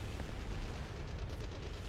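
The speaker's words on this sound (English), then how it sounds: "Ground fire." Anti-aircraft ground fire explodes in a flight combat video game, a dense, continuous roar of overlapping booms and rumbling blasts with no clear gaps, no talking.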